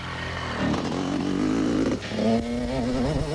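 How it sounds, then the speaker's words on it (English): Racing motorcycle engines, including a KTM in the 500 class, roar loud and close at the 1991 Sun City 400, rising in pitch as one machine accelerates past with another following. "Patrick Andrews was now second, but leading the 500 class on the KTM"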